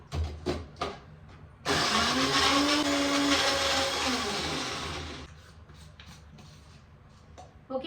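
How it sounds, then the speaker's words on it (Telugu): Mixer grinder whirring loudly as it grinds green chillies with salt, a steady high motor roar that runs for about four seconds before winding down, with softer clatter and handling sounds on either side. "పచ్చిమిర్చిలో లైట్గా సాల్ట్ వేసేసి నేను మిక్సీ పట్టేసుకుంటాను"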